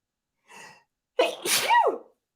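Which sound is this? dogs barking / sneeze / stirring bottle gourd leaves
sneeze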